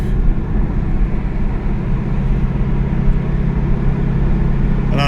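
A Pontiac Firebird with an LS1 V8 drones steadily in fourth gear, a continuous low engine hum with road rumble throughout, loud and close, with no talking.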